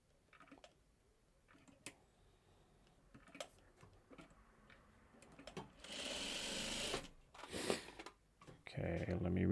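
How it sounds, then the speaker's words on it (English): A home sewing machine stitches quilting fabric, starting with faint scattered ticks and handling noises, then running in a fast steady whir for a few seconds, pausing, and whirring again close by. "can take it to the sewing machine and start stitching"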